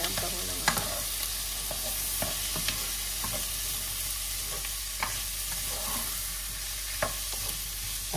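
Tomatoes fry in a pan with a steady, broadband sizzle, broken by scattered sharp clicks and scrapes of stirring throughout; no voices.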